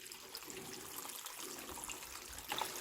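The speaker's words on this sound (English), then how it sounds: "then we've got to put some water into it" Tap water runs steadily into a cooking pot holding potatoes, a continuous close splashing flow with a brief louder gush near the end.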